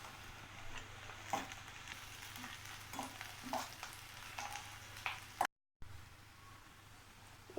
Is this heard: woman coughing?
no